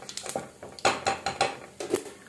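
A spoon scrapes and clinks against a pot while sesame seeds are stirred into dhokla batter, a string of sharp metallic taps in an irregular rhythm, close and clear.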